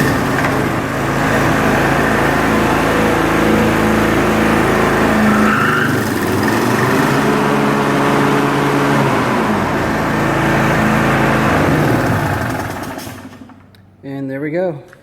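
A Toro 30-inch Timemaster lawn mower engine runs at a steady loud drone for most of the time, then cuts off near the end, leaving a brief lower rumble.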